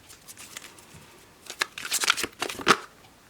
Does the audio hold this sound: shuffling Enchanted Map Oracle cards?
yes